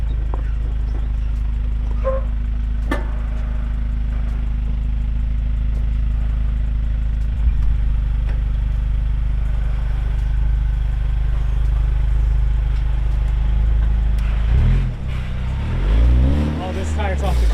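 Toyota Tacoma truck on freshly installed 37-inch tires creeping along slowly, a constant deep low engine drone close by with a few faint knocks and creaks, while people talk briefly near the end.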